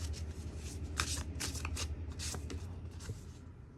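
A deck of Oracle of Life oracle cards being shuffled by hand, with soft continuous riffling and several crisp flicks and slaps over a few seconds and no talking.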